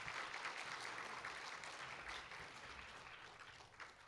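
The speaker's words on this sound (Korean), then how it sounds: "한규연 학생, 이유재 학생께 다시 한번 큰 박수 부탁드립니다" A crowd at a student supporters' launch ceremony claps steadily, a dense even patter of many hands at moderate level that holds for several seconds and tapers slightly at the end.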